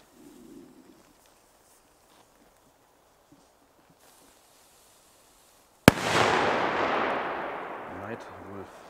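After several seconds of near silence, a single loud Polish firecracker bang goes off, followed by a long crackling, rumbling tail that slowly dies away.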